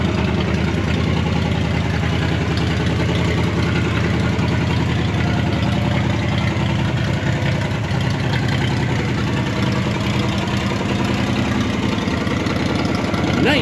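A 1957 Ford Thunderbird engine runs steadily at idle with a low, constant rumble that stays loud and close throughout without pause, and nobody speaks over it.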